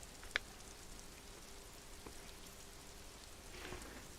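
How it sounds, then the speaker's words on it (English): Steady, soft rain patter with a faint hiss throughout, plus a brief sharp click early on; no voices. Rain in the video game Disco Elysium. "Probably not over the sound of rain in the game"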